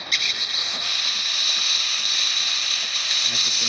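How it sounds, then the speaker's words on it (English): A DeLonghi espresso machine's steam wand sends out a loud, steady hiss of steam that holds unbroken from start to finish, with faint mechanical rattling underneath. "And for the steam, we're going to be testing it as well right now."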